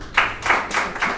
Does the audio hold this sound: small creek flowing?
no